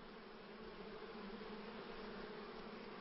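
A honeybee colony buzzing, a dense, steady drone of many bees at once, continuous and even, fairly quiet with no voices.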